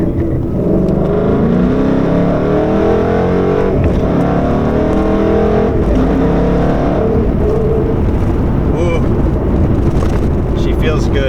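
A Ford Coyote 5.0 V8 car pulls along a freeway, its engine a loud, constant drone heard from inside the car, with a voice speaking over it.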